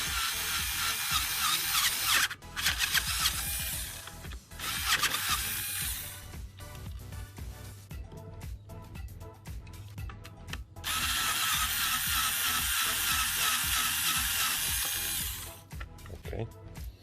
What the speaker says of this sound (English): Then you can use your power tool to remove the screws.